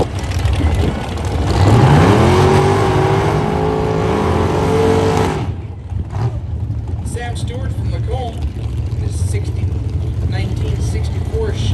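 An AMC Rambler with a 434 small-block Chevy roars down a drag strip, its engine climbing loudly through the revs for about five seconds before cutting off, followed by crowd noise and an announcer talking.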